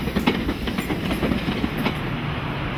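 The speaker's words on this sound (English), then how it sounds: "These tube trains run on electricity, which is supplied through a third rail." An electric London Underground tube train runs on third-rail power, with a steady loud rumble and rhythmic clickety-clack of wheels over rail joints continuing throughout.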